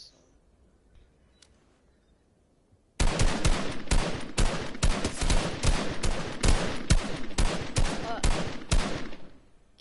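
Rapid gunfire in a PS4 shooter game, likely from a shotgun, starting abruptly after a quiet stretch and continuing as a dense, loud burst of repeated shots with a few brief gaps until near the end.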